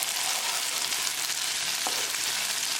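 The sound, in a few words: okra and sardines cooking in a pan on medium gas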